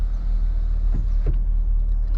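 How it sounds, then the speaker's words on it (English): Power windows on a 2018 Camaro SS 50th Anniversary Hot Wheels Edition closing, two short electric motor whines about a third of a second apart over a quiet cabin hum. "Let me actually put this windows up"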